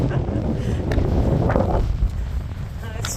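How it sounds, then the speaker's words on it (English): Strong wind on a beach roars and buffets the microphone continuously, a heavy low rumble with no break for the whole short stretch. "going along the beach for a while, which is awful because it's so windy"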